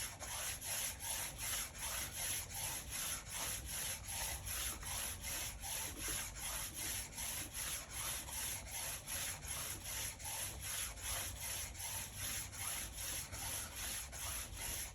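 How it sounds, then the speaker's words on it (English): Speed skate blade is stroked back and forth on a finer polishing stone, a quiet, even rasping with a steady rhythm of about two strokes per second, no talk. "Again, this is a finer stone to give it a little bit of a polish."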